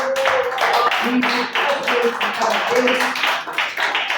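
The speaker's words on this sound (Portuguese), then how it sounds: "Dê uma salva de palmas linda que glorifica ao Senhor" A church congregation at a Pentecostal missions service claps hands in praise of the Lord, a steady dense patter of clapping running throughout, mixed with voices.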